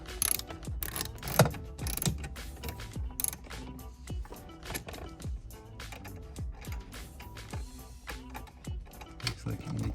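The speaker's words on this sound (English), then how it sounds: "So we're just going to do this with an 8mm socket." A ratchet with an 8mm socket loosens a bolt inside a 2013 BMW E93, giving close, rapid clicking bursts in irregular runs with short pauses between them.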